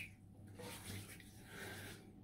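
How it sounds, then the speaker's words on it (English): Water runs steadily from a tap as a shaving brush is wetted at a sink, a soft continuous splashing stream with slight variations, fairly quiet and close, with no speech. "Get that brush in to get some water in."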